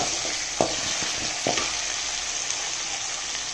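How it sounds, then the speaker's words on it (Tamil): Chopped onions frying in a pan with chana dal and urad dal give a steady, close sizzle, broken by a few soft stirring knocks and scrapes, with no talking. "கடலைப்பருப்பு உளுத்தம் பருப்பு கொஞ்சம் குக் ஆனோடனே வெங்காயம் போட்டாச்சு."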